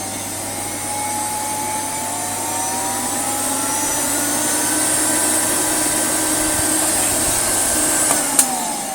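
A restored Hoover Sensotronic Total System 40 S3454 vacuum cleaner with a brand-new bearing runs steadily, a loud, smooth motor whine and airflow rush that holds constant, ending with a couple of small clicks.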